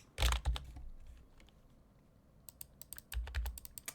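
Close, quiet keyboard typing in two quick bursts of clicks, separated by a near-silent pause.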